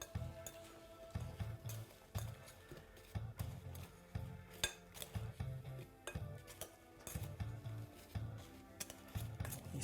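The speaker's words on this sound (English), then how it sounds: "We're going to start to mix that up." Apple pie filling is mixed with sugar and a little apple juice in a bowl, giving a steady run of scraping, stirring strokes and light clinks of utensil against the bowl, with no talk.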